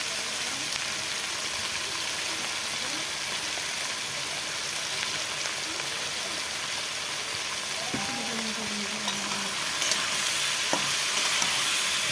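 Steady hiss and crackle of vegetables frying in hot oil, continuous throughout, with a few faint clinks and scrapes from stirring.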